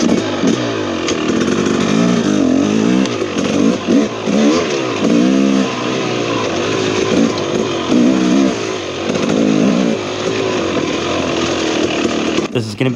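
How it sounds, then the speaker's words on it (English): A 2023 KTM 300XC TBI two-stroke dirt bike engine revs and bogs steadily through a ride, its pitch rising and falling repeatedly as it accelerates and eases off, loud and close throughout with wind noise. "this is the first ride on the 2023 KTM 300XC TBI"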